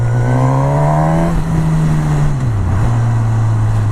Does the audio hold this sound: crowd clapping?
no